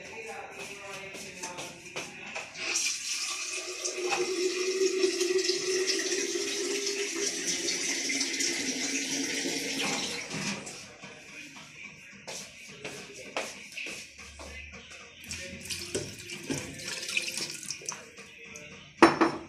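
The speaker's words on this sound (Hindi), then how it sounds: "2 लीटर पानी डाल, इतना डालेंगे कि जो है सिट्टा ये डूब जाए।" About two litres of water pours steadily into a pressure cooker holding corn for about ten seconds, followed by quieter clinks and handling sounds of cookware.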